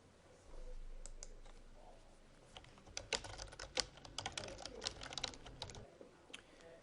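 Soft, close keystrokes on a computer keyboard as reflection notes are typed, starting sparse and then quickening into a steady, uneven patter before tapering off.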